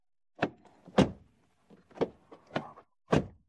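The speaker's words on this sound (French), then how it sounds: "puis un bruit de porte qui se ferme" Doors of a Mini Aceman electric car closing, five short solid thunks spaced about half a second to a second apart, close and fairly loud with quiet gaps between them.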